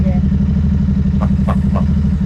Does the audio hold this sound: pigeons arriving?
no